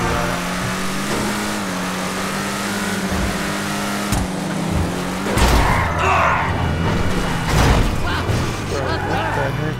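A custom VW Beetle rat rod (BF Weevil Custom) accelerates in a driving video game, its engine droning steadily and rising, with a thump midway and someone talking over it.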